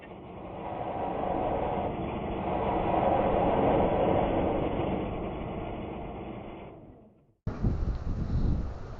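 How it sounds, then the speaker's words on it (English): A bowl gouge roughing down a wooden spindle on a Bauer lathe gives a loud, sustained rushing shear of steady cutting for about seven seconds, then a brief break before the cut resumes. "Bowl gouge is cutting as clean as I can expect."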